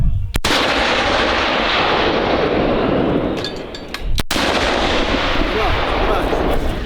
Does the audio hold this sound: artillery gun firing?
yes